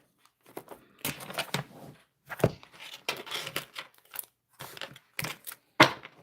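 Playing cards being shuffled and tidied: close, dry riffling and slapping bursts come in irregular clusters with short quiet gaps between them.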